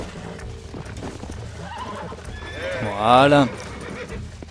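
A horse in the video game Red Dead Redemption lets out a loud whinny near the end, with hoof clip-clops and someone talking throughout.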